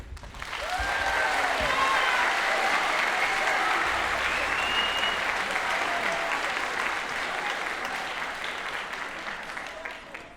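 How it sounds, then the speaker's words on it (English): An audience applauds a middle school concert band at a winter concert, sustained dense clapping filling the hall for about ten seconds, with faint voices and cheers mixed in. "We're going to give a huge round of applause for the middle school concert band"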